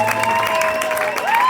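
A concert audience at Le Polyèdre applauds and cheers for a performer, a loud, dense, steady wash of clapping with crowd noise and a few sustained tones running underneath.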